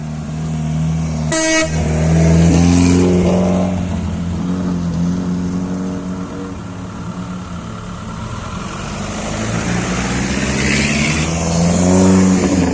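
Rally cars leave the start of a stage one after another, engines loud and near, revving hard and accelerating away, with a short horn toot early on and a lingering engine drone in between.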